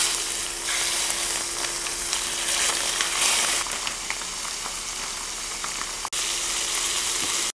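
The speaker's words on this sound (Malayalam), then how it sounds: "ഓയിൽ നല്ല ചൂടായതിനു ശേഷം നമ്മളുടെ ചിക്കൻ സ്കിൻ സൈഡ് താഴെ വരുന്ന രീതിയിൽ നമുക്ക് പാനിലേക്ക് വെക്കാം" Chicken pieces laid skin side down in hot sunflower oil in a pan, giving a loud, steady, dense sizzle close by with small crackles throughout and a brief dip near the end.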